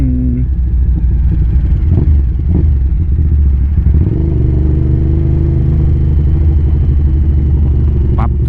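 Suzuki TL1000R motorcycle engine with the throttle twisted, a loud, steady rumbling roar that climbs in pitch partway through as revs rise, alone and close.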